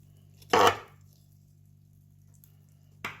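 A knife cuts through food while lasagne is being prepared: one sharp, close cut, then a long quiet pause over a low hum, and a second softer cut near the end.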